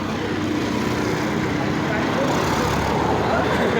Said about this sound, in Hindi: ट्रैफिक का आवाज़ देख लो।